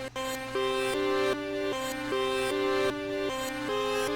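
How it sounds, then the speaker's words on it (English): A flute melody is played through a reverse effect set fully wet, giving a sequence of sustained, swelling tones that step between pitches in an even rhythm, clear and close with a soft background hum. "what you can do is you can instantly reverse the sound"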